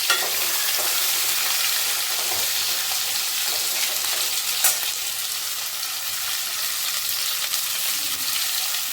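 Vegetables for sukto fry on a high gas flame with a dense, constant hiss of sizzling oil, close and even, with occasional faint stirring clicks.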